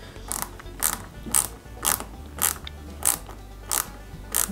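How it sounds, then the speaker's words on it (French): A flat-head screw is driven into a 1/8-scale Ford Gran Torino model kit, giving eight evenly spaced, crisp ratcheting clicks from the screwdriver turns, close and fairly quiet. "je mets la deuxième vis à tête plate"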